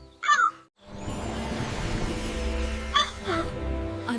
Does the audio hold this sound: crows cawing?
yes